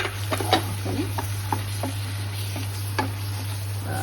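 Capsicum frying in a pan for a paneer curry, a steady soft sizzle broken by scattered scraping clicks of a spoon stirring, with a constant low electrical hum underneath and no talk.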